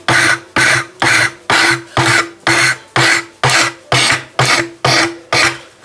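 Sandpaper rubbed hard over a wooden ship model hull, loud rhythmic scrubbing strokes repeating about twice per second, each a close, harsh rasp with a sharp start.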